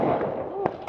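Frag grenades exploding in a shooter game, with a rumbling burst followed by two sharp pops in quick succession, heard amid continuous game noise.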